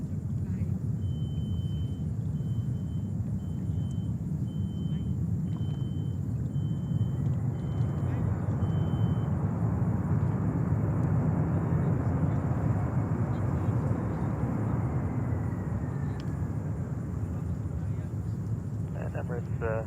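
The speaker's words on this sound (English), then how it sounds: "Next one is a 767-400 coming in from Paris." A Boeing 767-400 arriving from Paris lands at JFK, giving a loud, steady jet roar that swells and holds throughout under airport ambience, with voices talking over it.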